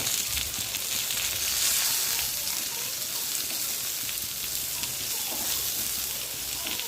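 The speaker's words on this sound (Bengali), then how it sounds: "দেখো পটলটা ভাজা ভাজা করে নিচ্ছি।" Pointed gourd fries in a pan with a steady, close crackling sizzle that continues evenly, with a faint stir near the end and no voices.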